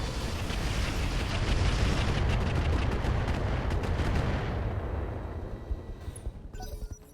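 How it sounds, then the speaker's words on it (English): Sniper artillery fires in the mech battle game RogueTech as a heavy, loud booming barrage that rumbles continuously for several seconds, then fades out with a few scattered distant impacts. "we definitely want to shoot our sniper artillery over here"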